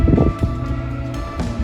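Steady wind buffeting a sailing boat at sea after a stormy night, a low continuous rumble against the microphone with faint rustling and creaks, heard alone without talk.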